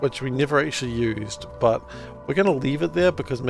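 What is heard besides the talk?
None of the usual background noises is heard.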